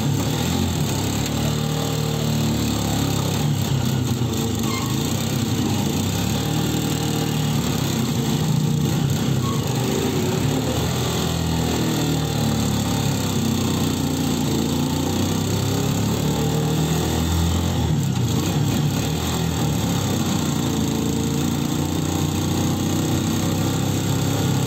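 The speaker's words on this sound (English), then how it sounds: "Our driver and a few drops of gasoline that had dripped from the tank into the carburetor tried to start the bike, and he succeeded." A motorbike engine on a Philippine island runs steadily after starting on a few drops of gasoline in the carburetor, a continuous buzzy drone, fairly close and unbroken, with no talking.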